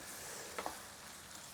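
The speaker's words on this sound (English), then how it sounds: "we're just gonna keep chopping this up and cooking it till it all finishes" A sweet potato skillet sizzles quietly in the pan, a faint steady frying hiss with a couple of soft scraping clicks from stirring, and no voices.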